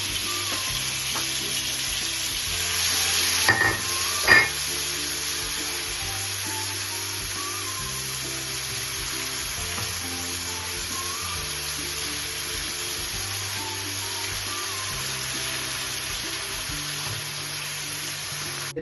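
Ginger frying in oil for a prawn pulao, a continuous close sizzle with a couple of sharp clatters of a utensil early on, steady and unaccompanied by talk.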